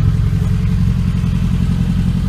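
A classic Mini Cooper SPi engine with a decat straight-through exhaust idles steadily up close, a deep, throaty, continuous low rumble with a slightly rough, pulsing exhaust note.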